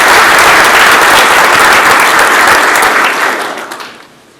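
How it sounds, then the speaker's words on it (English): Loud, dense audience applause at a first responders ceremony, sustained clapping filling the room before tapering off toward the end. "Let's give her a round of applause"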